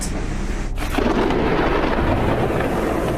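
A thunderstorm in news footage from Pittsburgh, with heavy rain delaying a music festival, brings loud, continuous downpour and a rolling thunder rumble swelling in the middle, with no voices.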